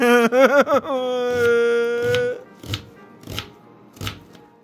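A knife chops onion in a kitchen, with about five crisp, spaced board strikes after a brief sung or tonal voice at the start.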